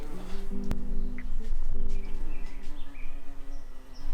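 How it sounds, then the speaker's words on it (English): A loud, steady insect buzz hums close by, its pitch wavering as a large wasp or hornet hovers and shifts around. "That is a very large wasp hornet thing."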